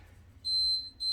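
Workout interval timer beeps during a bodyweight exercise session: a steady high electronic tone sounds twice, the first held about a third of a second and the second starting near the end, with no talk.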